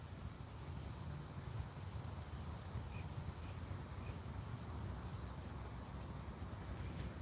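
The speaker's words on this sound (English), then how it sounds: "Crickets are ultra loud." Crickets chirp loudly outdoors at a carp fishing spot, a dense, steady high-pitched trill that runs unbroken throughout over a low background hum.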